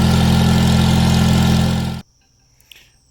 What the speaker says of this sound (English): Factory muffler on the Sears, and it is much, much quieter.